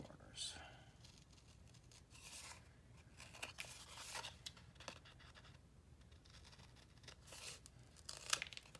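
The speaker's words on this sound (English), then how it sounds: "Burnish. And let's trim these corners." Scissors trim the paper corners of a Graphic 45 mini album, giving faint, close scratching snips and paper rustles in short irregular bursts over a low background hum.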